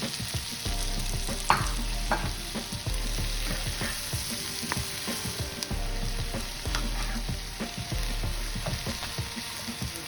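Mushrooms sizzle and fry in a hot pan with onion, with steady crackling spatter and occasional stirring clatter throughout, close and moderately loud with no talking.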